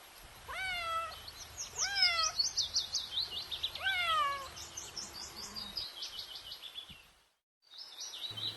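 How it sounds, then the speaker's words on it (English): A cat meows several times in a rising, drawn-out pattern, fairly close, with high bird chirps and tweets layered over it during a children's alphabet rhyme. "C for cat."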